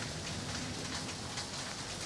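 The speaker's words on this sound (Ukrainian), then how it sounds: "щоб дощ перестав падати" Steady rain falls through a city street during an outdoor photo quest, a dense, even hiss of drops spattering on surfaces, close and constant with no voices.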